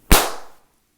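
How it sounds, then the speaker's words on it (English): A loosely swung, relaxed hand smacks against a leg once, a single sharp close slap with a short fading tail, then silence. "I come down and I smack my leg"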